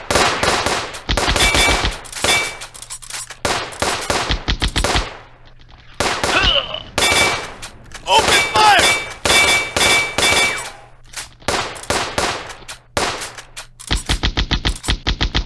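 Gunfire from the WW2 real-time strategy game Firefight rattles in dense, loud bursts, with rapid machine-gun strings, single metallic clanging shots and short pauses between volleys.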